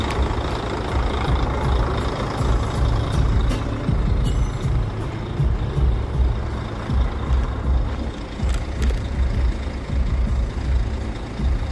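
A Volvo D12 diesel truck engine idling steadily after a starter replacement, a loud, low, rumbling drone heard up close with some faint ticking and clatter on top and no voices.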